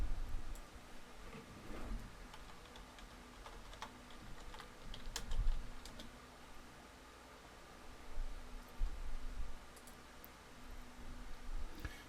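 Fingers type on a computer keyboard in quiet, scattered clusters of light clicks, with short pauses between bursts, entering a date in an office spreadsheet.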